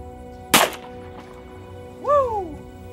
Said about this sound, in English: This is a 357 SIG fired out of an H&K P2000. I'm firing 125 grain Federal full metal jackets.